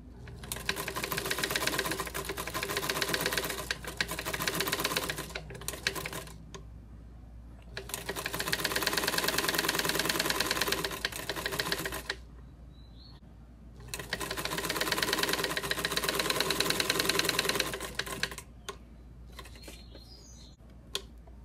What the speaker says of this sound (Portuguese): passar uma costura mais reforçada aqui onde fica o elástico